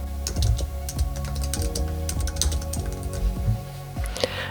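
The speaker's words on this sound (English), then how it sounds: "type Family Search in Google" Rapid keystrokes on a computer keyboard while entering a search into a web browser, a busy run of close, clear clicks and taps with no talking.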